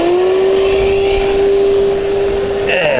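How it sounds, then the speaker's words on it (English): A vacuum cleaner runs as the blower for a homemade garden-waste furnace, a loud steady motor whine with a strong constant tone that dips in pitch near the end, a voice briefly heard under it. "Turn the vacuum cleaner on."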